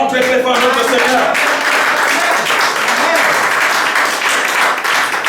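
A church congregation claps and cheers loudly in praise of the Lord. The dense, sustained applause fills the room, and voices call out over it throughout.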